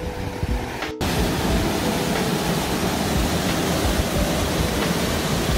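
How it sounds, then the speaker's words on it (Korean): Water pours continuously over rocks at a canyon waterfall in Deokpung Valley, a loud, dense rush that fills the air without pause, close at hand and unchanging. "이렇게 해서 바위 폭포가 이루어져 있고 사이로 쭉 해서 내려오는 물이 이 물이에요"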